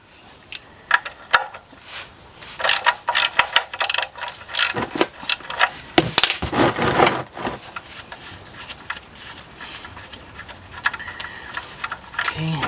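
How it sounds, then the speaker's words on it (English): A 17mm wrench or socket loosening the oil drain plug on a Kia or Hyundai engine: irregular clicking, ratcheting and metallic clinks in bursts, close up and moderately loud, with no talking. "Get a 17mm wrench or socket, and we're going to take out the drain plug"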